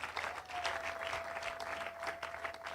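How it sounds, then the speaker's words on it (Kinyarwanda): Sustained applause from a wedding audience, steady and dense throughout with a faint tonal whine running beneath the clapping. "Amashyi menshi mwokagira Imana"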